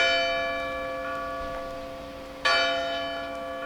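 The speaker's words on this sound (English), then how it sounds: "The church bell tolled with a deep, powerful ring." A church bell tolls with a deep, resonant ring. A fading hum from an earlier strike is followed by one fresh, loud stroke that rings out and slowly decays.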